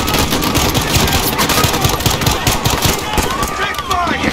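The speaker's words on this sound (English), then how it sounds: "Shots fired." Rapid automatic gunfire from the Call of Duty: Modern Warfare campaign's Piccadilly mission, a dense, loud, continuous stream of shots layered over rumbling engine noise and voices talking throughout.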